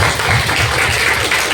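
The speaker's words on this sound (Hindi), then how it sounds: "हम उस भाई बहनों के लिए ताली बजाएं मेरे प्रियो" Congregation at a church sermon clapping together, dense continuous applause filling the whole moment, loud and close with no speech over it.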